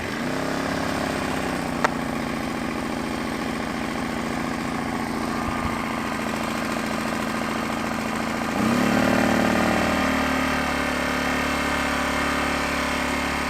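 A Harbor Freight Predator 1400W portable generator runs steadily at a low, even drone, with a brief click near the start. Midway the engine note rises and thickens as the load or throttle changes, then settles back to a smooth hum. No one speaks.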